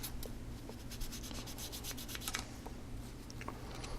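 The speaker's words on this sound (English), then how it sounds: "I'm going to take a medium sanding stick, and I'm just going to sand it down" A medium sanding stick rubs down raised plastic on a scale model part in a steady, close, soft scraping that stays low and continuous, with a few brighter strokes standing out.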